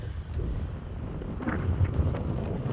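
Steady wind blows over the microphone on a South Dakota roadside, a constant broadband rumble and roar with slight gusting swells throughout and no voices.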